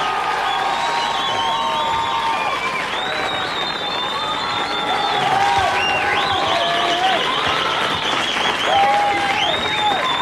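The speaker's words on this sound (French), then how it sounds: "Je vais vous demander d'applaudir pour son dernier concert et sa tournée mondiale" Concert audience applauding and cheering, with steady clapping throughout and whistles and excited shouts rising and falling over it, growing slightly louder toward the end.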